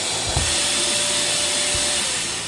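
Vacuum cleaner running with a dust pad attached, a loud constant roaring rush of suction with a faint tonal whine that continues steadily throughout, accompanied by a few low knocks.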